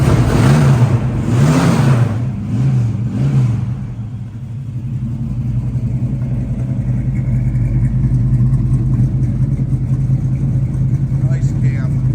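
A 1978 Chevrolet Malibu V8 with an aftermarket cam, its loud idle rumbling steadily throughout, with a brief burst of revving near the start and voices talking over the engine.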